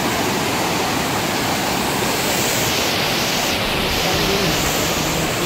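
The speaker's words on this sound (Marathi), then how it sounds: "पाणी जाते वाहत पलीकडे" Water pours steadily over Kandwan dam near a small iron footbridge, a loud, continuous broadband rush with no breaks, close and dominant throughout.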